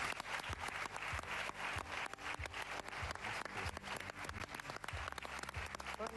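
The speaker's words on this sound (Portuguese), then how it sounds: "Uma salva de palmas para ela." A television studio audience bursts into applause for an arriving guest, a dense run of sharp, close hand claps that stays loud and steady throughout, with no talking over it.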